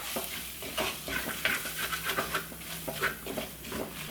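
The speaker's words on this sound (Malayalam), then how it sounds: "എല്ലാം കൂടി ഒന്ന് ഇളക്കി കൊടുക്കാം" Chilli powder and pepper powder being stirred into a sizzling crab masala in a pan, with steady scraping strokes over a constant frying hiss and no talking.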